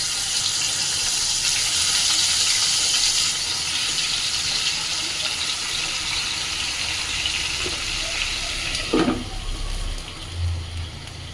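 Boal fish pieces frying in hot oil in a pan, a steady broadband hiss and sizzle holding throughout, with a brief clatter near the end.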